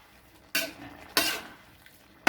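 Three separate clanks of a spatula against a pan, widely spaced and close by, with a faint sizzle underneath, while pork with curry paste and long beans is stir-fried.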